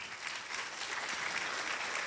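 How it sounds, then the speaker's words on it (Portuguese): Applause from an audience at a presentation event fills the moment, a dense, steady wash of many hands clapping with no voices over it. "uma salva de palmas mais uma vez ao Rafael Tunes"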